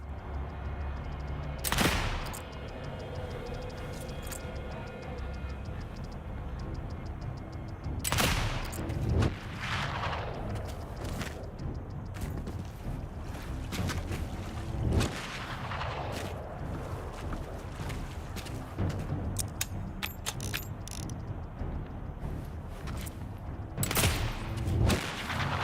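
Rifleman gunfire in the video game Valor Mortis, loud sharp shots booming out at intervals of several seconds, each trailing into a rumbling echo over a constant low ambient bed.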